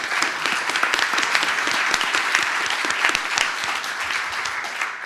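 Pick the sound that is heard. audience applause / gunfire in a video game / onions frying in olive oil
audience applause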